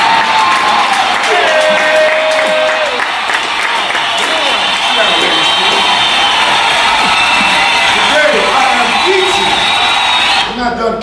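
A live audience at a radio show bursts into loud, sustained applause and cheering, with whoops rising over dense clapping that holds steady for about ten seconds before cutting off abruptly.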